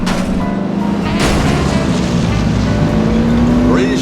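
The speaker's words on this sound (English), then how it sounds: "British warplanes." British warplanes bombing Paris in The Saboteur, a heavy low rumble of aircraft engines and distant booming explosions rolling continuously, loud and dense, with a droning tone running underneath.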